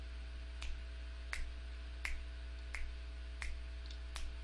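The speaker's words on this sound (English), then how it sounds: "I'll go ahead and snap my fingers here." Six sharp finger snaps land at a steady pace close to a headset microphone, each a crisp isolated crack over a constant low electrical hum.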